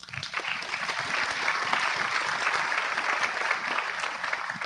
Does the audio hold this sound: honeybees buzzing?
no